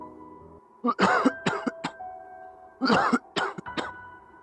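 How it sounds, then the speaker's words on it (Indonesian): Several bursts of coughing in clusters, two rough coughing fits separated by a short pause, fairly close and loud against a quiet background. "Suara batuk itu masih terdengar."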